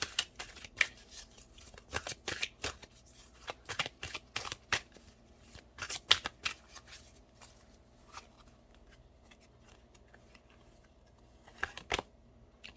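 Tarot cards being shuffled by hand, crisp riffling and slapping bursts coming in irregular clusters, close and fairly loud over a quiet background, with no talking.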